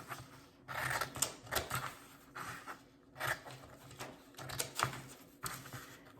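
Scissors cut paper into fringe strips for a Chinese New Year paper lantern, a series of about six crisp snipping bursts close by, with quiet gaps between them.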